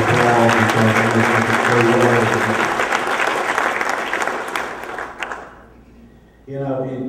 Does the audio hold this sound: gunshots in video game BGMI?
no